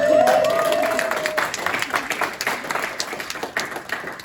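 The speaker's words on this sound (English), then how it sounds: "You're allowed to clap, you're allowed to woo woo." Audience clapping at a youth engagement event, a burst of applause that starts strong and slowly thins out, with crowd noise and a voice briefly heard over it at the start.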